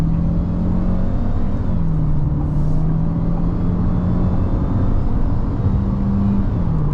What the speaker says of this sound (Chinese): 我们来试一下它的0到100 Sport Mode 踩完，那起步的话就要给它先放一些。